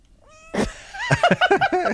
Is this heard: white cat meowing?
yes